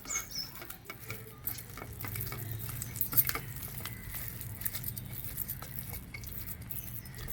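Cooked rohu fish pieces are mashed by hand, giving a steady, close, soft squelching and crackling patter that runs on throughout without any talking.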